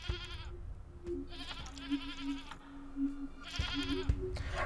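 A goat bleats repeatedly inside the video game Sally Face, several wavering, nasal cries in a row over a low steady hum, moderately close and quiet.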